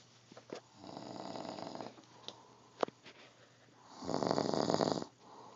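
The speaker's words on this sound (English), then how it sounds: "Beware of the dreaded sleeping, snoring frog." A sleeping man snores loudly, rumbling in two long drawn-out breaths, with a few soft clicks and sniffs between them.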